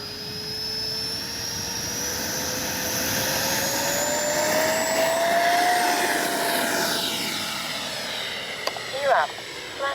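A FlyFans L-39 RC model jet in camouflage scheme takes off with a rising turbine whine that swells as it passes, then fades into the distance over an open field, with a few brief bumps near the end.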